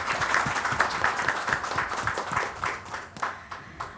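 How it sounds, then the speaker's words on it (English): Dense, continuous applause fills a conference hall at an annual general meeting of a sports industry confederation in India, a steady crowd of clapping hands holding at an even level throughout. "Can we have a round of applause for ma'am"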